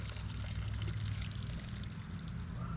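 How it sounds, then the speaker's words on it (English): Scalding hot pasta water poured from a pot into a dish pan at a campsite, a steady close rushing splash with a low rumbling undertone throughout. "pour this scalding hot water right into my dish pan"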